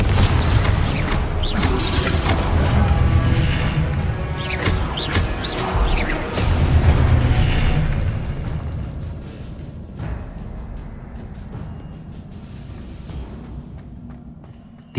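Confringo blasting curse in Hogwarts Legacy, a loud crashing blast with clattering debris and rumble for several seconds, then fading into quieter ambience.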